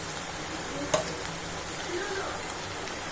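Chopped onions and ginger-garlic paste sautéing in a pan for a mushroom masala give a steady, soft sizzle, with a brief clatter near the start.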